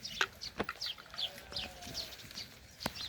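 Ewes and sheep at a livestock sale bleat in short, scattered cries with some clucking among them, against a low murmur of the market. The calls come at moderate distance and fairly faint.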